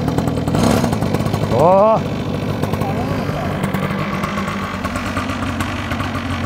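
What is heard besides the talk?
cheap mini motorcycle engine pull-started and idling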